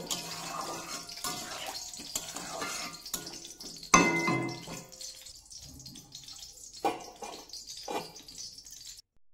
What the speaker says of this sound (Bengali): তো আমি কিন্তু সবজিটাতে জল দিয়ে বসিয়ে দিলাম